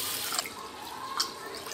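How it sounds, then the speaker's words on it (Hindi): Raw rice being rinsed in clean water for matar pulao, with a soft continuous trickle of running water and a few faint drips and splashes, fairly quiet and steady with no voices. "सबसे पहले हम राइस को 2-3 बार साफ पानी से धो देंगे अच्छे से।"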